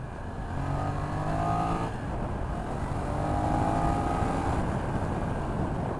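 A BMW F900XR motorcycle engine pulling and accelerating on the road, a steady rising drone with tonal engine whine under heavy wind rush, held throughout at close range.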